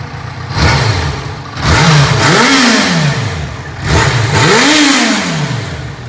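600 cc driving-school motorcycle engine, restricted to 34 hp and fully warmed up, revving in two sharp rising-and-falling sweeps over a steady idle, loud and close with no talk.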